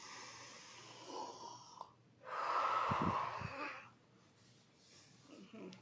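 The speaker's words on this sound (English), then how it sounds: "let's smell our soup. And then blow to cool it down." A child's sniffing inhale and a long breathy blow, as if smelling soup and cooling it, rise loud in the middle of an otherwise quiet stretch, with soft breathing before and after.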